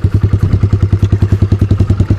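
A Kawasaki KLX 110 dirt bike fitted with a BBR D3 exhaust thumps along in a rapid, steady, loud single-cylinder beat, close by and without speech.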